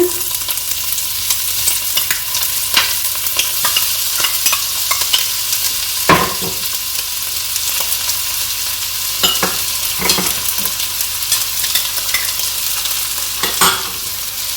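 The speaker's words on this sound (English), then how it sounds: "I'm going to throw the onions and peppers in" Onions and peppers fry in hot oil in a pot for a saltfish fried rice, giving a steady close sizzle with scattered stirring scrapes and clicks throughout, and no talking.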